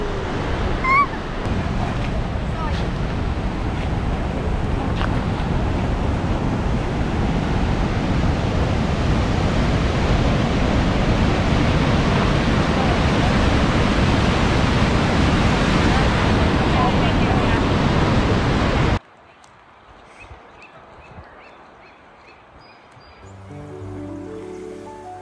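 River rushing along the Vernal and Nevada Fall trail in Yosemite, a loud, continuous roar of whitewater buffeted by wind for most of the stretch, then cutting to a much quieter, calmer scene near the end.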